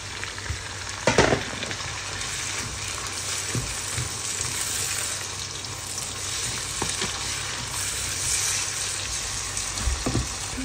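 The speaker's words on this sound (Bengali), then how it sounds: "ব্রাউন পেঁয়াজের সাথে শুটকিটাকে বেশ কিছুক্ষণ ভেজে নিছি" Dried fish fries with browned onions in a pan, giving a steady crackling sizzle throughout with occasional stirring scrapes, close and fairly loud, with no talking.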